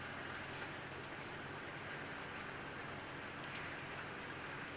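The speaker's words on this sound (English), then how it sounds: "isn't it wonderful to see all this rain?" Rain falling steadily at dusk in an African safari reserve, a soft continuous hiss of drops on surfaces with no breaks, fairly faint and even across the whole stretch.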